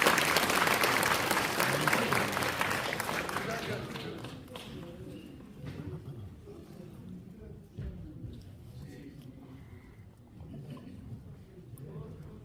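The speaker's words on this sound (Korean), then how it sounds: "큰 박수 부탁드립니다." Audience applause at a Korean community redevelopment briefing, loud clapping at the start that gradually fades into scattered claps and room murmur as people settle.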